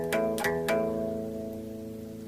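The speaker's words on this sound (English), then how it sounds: "That is the sound of completely dead strings." Dead bass strings on a brand-new Taylor GS Mini acoustic guitar, plucked three times in quick succession. Each note is dull with little attack, then one flat tone lingers and slowly fades, with nothing else heard.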